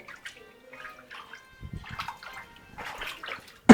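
Footsteps wade through shallow water near a village home: soft, irregular splashes and sloshes come in short bursts, faint and fairly close, separated by quiet gaps, with one sharper splash at the end.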